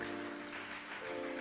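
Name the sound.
audience applause in theatre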